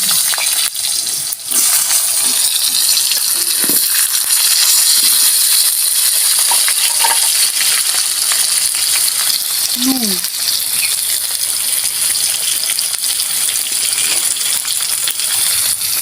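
Potatoes frying in hot oil in a pan with green chillies, a loud, continuous sizzling hiss with a few scattered crackles and knocks.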